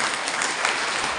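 An audience at a religious discourse (pravachan) in Nidoni claps together in a brief, dense burst of applause, loud and continuous throughout with no voices over it.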